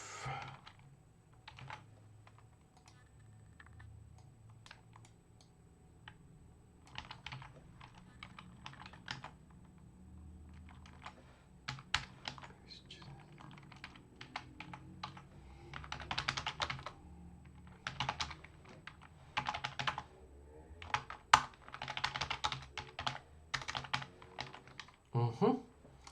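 Typing on a computer keyboard while programming, with bursts of clattering keystrokes close by that grow denser and louder in the second half, over a low background hum.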